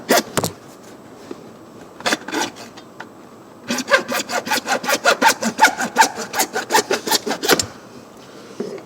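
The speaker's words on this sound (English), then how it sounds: "Take my trusty saw." A hand saw hacks through a piece during a brake light repair on a 1999 Nissan Altima, starting with a few scattered strokes, then a fast rhythmic burst of about a dozen loud, close rasping strokes before stopping.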